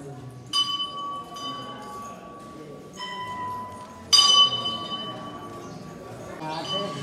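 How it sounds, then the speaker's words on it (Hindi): A metal temple bell at Baba Shri Chand Mandir in Pakistan is struck three times, each strike ringing out and slowly decaying, with the last one loudest, amid faint background voices. "ये है बेल, तो हम घंटी बजाते हैं।"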